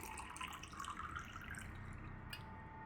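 Soft running water in a plumbing-themed game scene, a steady faint trickle and splash like a tap flowing, with a brief drip-like click near the end and no talk.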